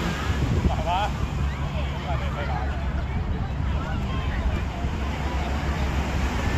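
Continuous roar of rough, strong sea waves over deep water on a Hong Kong shore, with wind noise battering the microphone, steady and loud, with faint voices mixed in the background.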